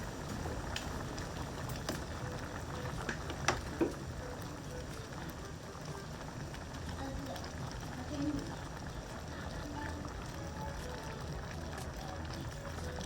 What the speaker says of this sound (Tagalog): Konti na lang itong pakulo, mga kadilag.